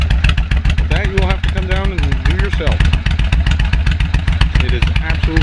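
Suzuki VL 1500LC motorcycle from 2002 fitted with Cobra pipes, its engine rumbling steadily with a light touch of revving, close and loud, while someone talks over it throughout.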